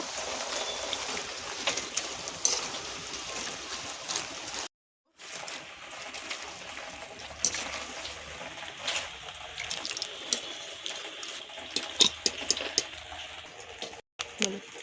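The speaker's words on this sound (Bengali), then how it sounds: "একটু লাল লাল করে ভেজে নেব।" Nimki dough pieces frying in hot oil until reddish, a continuous bubbling sizzle with crackles and a few soft kitchen knocks, steady and close throughout.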